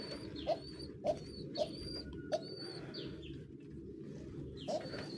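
Pigeons coo steadily inside a pigeon house, a low throaty murmur layered with several birds, while sharp chirps and short bright calls pop out at regular intervals over the cooing.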